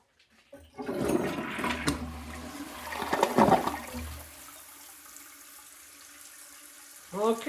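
A Glacier Bay toilet flushing up close, with a rushing surge of water followed by a quieter refill trickle and a brief sound at the end.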